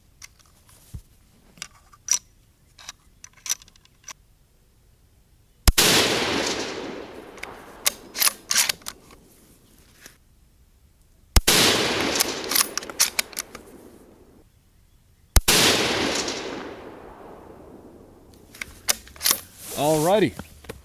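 Rifle shots from an accuracy test firing 168 grain rounds, four loud sharp reports spaced several seconds apart, each with a long decaying echo, with faint handling clicks between and a brief voice near the end.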